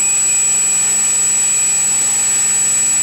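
A Kinetic Motor Systems KBM31/21 electric motor runs at power, giving a steady, loud, high-pitched whine with a constant tone and no breaks or voices.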